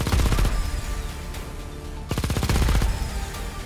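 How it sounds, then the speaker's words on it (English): A machine gun fires in the space shooter game Xenoraid: two loud, rapid bursts of rattling shots separated by a brief pause. "Remember not to overheat the machine gun."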